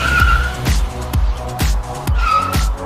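In the Baldi video game a car skids to a stop in a parking lot, and repeated tire screeches and skid bursts come loud and close, several sharp squeals in quick succession.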